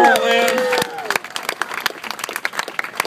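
Crowd applause at a comedy roast breaks out after a performer's line, starting under a sung or shouted voice and continuing as scattered, lively clapping.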